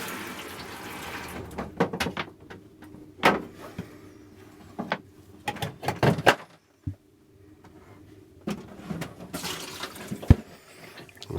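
Water runs in short bursts from the shower of a 2002 VW Autosleeper Clubman Gatcombe campervan using a Whale water system, with clicks and handling knocks between the spurts.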